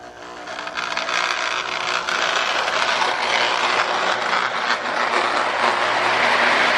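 A K-Line Marx S2 toy train locomotive, pulling a long train, runs steadily with a continuous close whirring, clattering motor-and-wheel rattle that stays loud and even throughout.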